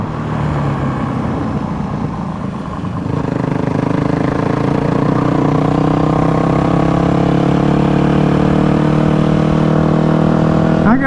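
A Yamaha WR250F dirt bike, freshly repaired and out on the road, drones loudly and steadily while ridden, its engine note climbing smoothly as it accelerates through the gears.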